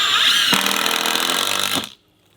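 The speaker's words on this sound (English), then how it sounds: "we're also going to try the drill right here, just so you can see how this works as far as speed comparing to the impact" A Ryobi 18-volt drill driver drives a screw with a loud, high motor whine that rises in pitch and strains for about two seconds, then stops abruptly.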